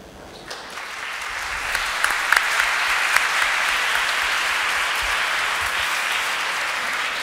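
Conference audience applauds the speakers at the close of an academic session, a steady wash of clapping that swells and holds throughout.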